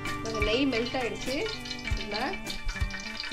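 Oil and melted ghee sizzle steadily in a biryani pot for chicken biryani, with a spoon stirring through the fry and a few knocks of metal on the pot.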